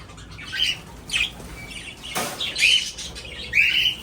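A breeding colony of budgies and cockatiels gives short bursts of chirps and squawks, with one brief flutter of wings midway, over a quiet background and no speech.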